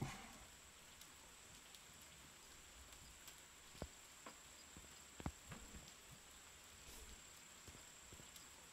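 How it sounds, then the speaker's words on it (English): Rain pours down in the survival game Empyrion, a steady soft patter with scattered sharper droplet ticks and a faint high whine, quiet and continuous with no talk. "Oh, here comes the rain."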